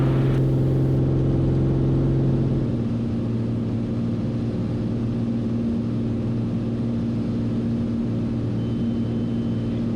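Piston engine of an A36 Bonanza at takeoff power, a steady loud droning hum that shifts pitch slightly a few seconds in and then holds constant with cockpit noise.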